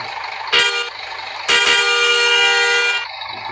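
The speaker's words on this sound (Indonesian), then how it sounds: "Kita coba klakson satu" A loud vehicle horn blasts twice up close, a short toot followed by a longer sustained honk of about a second and a half.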